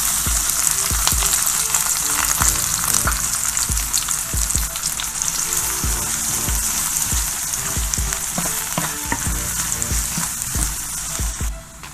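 Onions hitting hot oil with toasted cumin seeds in a home kitchen pan, a loud, steady sizzle throughout with scattered crackles and occasional stirring knocks, close and continuous with no talk.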